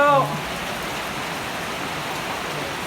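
Rain falling steadily outdoors, a dense even hiss of drops on surfaces, with a brief voice at the very start before the downpour carries on alone.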